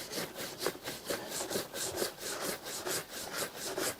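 A shoe, a Chelsea boot, buffed by hand with steady, rhythmic rubbing strokes, about four per second, close and even with no talking.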